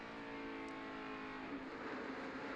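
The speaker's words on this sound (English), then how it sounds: "Boy, you heard him breathe the throttle." A NASCAR stock car engine at Michigan International Speedway eases off the throttle, a steady mid-distance drone with the pitch dipping slightly, no talk over it.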